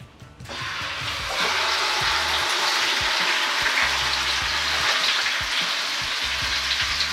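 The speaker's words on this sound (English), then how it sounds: "When the butter stops sizzling, put the chicken in the skillet." Steady, dense sizzling of chicken frying in butter in a hot skillet, loud and continuous after a brief quieter start, with faint clinks underneath.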